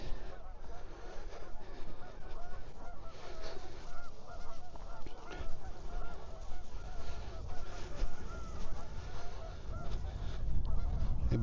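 A flock of Canada geese honks continuously at Lake Anita State Park, many overlapping calls blending into a noisy chorus, with a low rumble of wind or movement underneath.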